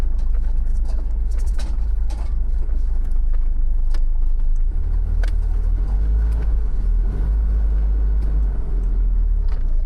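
A four-wheel drive vehicle on all-terrain tires crawls over a rough, gnarly track near a riverside campsite, giving a close, steady low engine rumble with uneven knocks and jolts throughout, without any talking.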